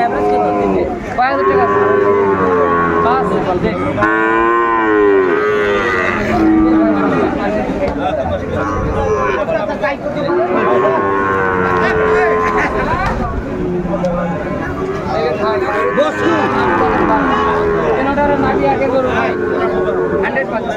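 Cattle, including Sahiwal bull calves, moo repeatedly over a busy crowd at a livestock market in Comilla, Bangladesh, with bargaining voices and market chatter running underneath throughout.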